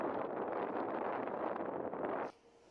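Wind blows through snowy Carpathian mountains in hard frost, a dense, steady rushing gust that buffets close and loud, then drops off abruptly into a quiet background.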